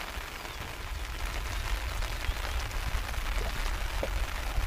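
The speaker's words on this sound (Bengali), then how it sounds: "বৃষ্টি বর্ষা কিন্তু শুরু হয়ে গেছে" Monsoon rain falls steadily over a riverside under cloudy skies, making a dense, even patter on surfaces with scattered louder drops, continuous and moderately loud throughout, with no voices.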